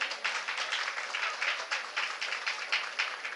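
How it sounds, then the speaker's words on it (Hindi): An audience at a Jain monk's religious discourse claps together in a brisk, rhythmic burst, the claps falling in regular pulses at a moderate, slightly distant level, with no talk over it. "अब बजाओ ताली।"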